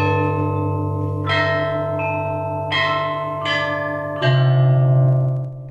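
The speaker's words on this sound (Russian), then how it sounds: "Здесь находится гигантский буддийский колокол, отлитый в 15 веке" Deep tones of a giant 15th-century bronze Buddhist temple bell at Dajue Temple, Beijing, ring out several times in succession, each strike swelling and lingering with a long resonant hum, loud and close.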